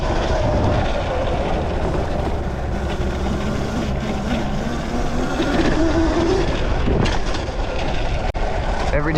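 A small electric dirt bike ridden hard over jumps, a steady loud rush of motor whine and wind noise with rattling, and a sharp knock near the end.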